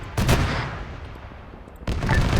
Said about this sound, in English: And that would be the AA firing at him